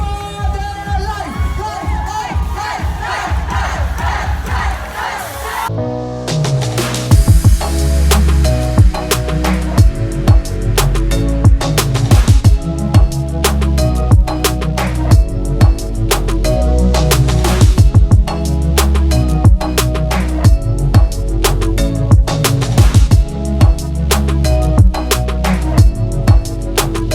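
A crowd cheering at a mall event for two final lip sync contestants, loud music with steady beats running throughout, the cheering blended in underneath after a brief quieter opening.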